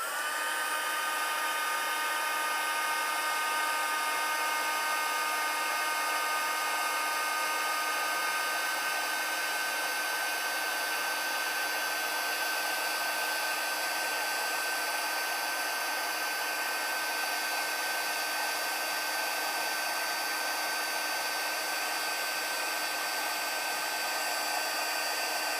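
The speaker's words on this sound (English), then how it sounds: "we're going to set it on setting 2 again, and we're going to melt the embossing powder and watch it just turn shiny" A heat tool on setting 2 blows hot air to melt gold embossing powder over hot glue on a card, a steady loud whirring hiss held unbroken throughout, close up with no other sounds.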